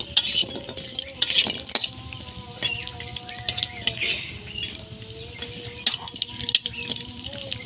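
Lentil dumplings (bori) and potatoes frying in a pan, with a steady soft sizzle under repeated scraping and stirring clatter of a utensil against the pot, fairly close and moderately loud.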